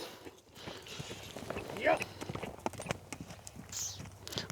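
A Karabair horse from the mountains walks, its hooves clip-clopping at close range in a fairly quiet, uneven rhythm while people talk nearby.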